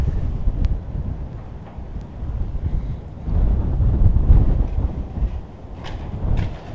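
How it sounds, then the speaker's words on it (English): Strong wind buffets the microphone outdoors at Toyosu Senkyaku Banrai food village in Tokyo, a steady low roar that swells and gusts, with faint clicks and no voices. "Wow, it's so windy."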